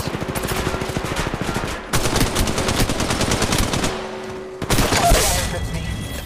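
Rapid automatic gunfire in the mobile battle-royale game Apex Legends Mobile, loud dense bursts of machine-gun fire in several stretches with brief breaks between them.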